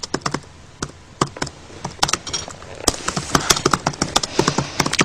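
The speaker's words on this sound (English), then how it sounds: "I talk too much for him to be typing." Rapid, loud typing on a computer keyboard up close, with irregular bursts of sharp key clacks that grow busier and denser toward the end, and no speech.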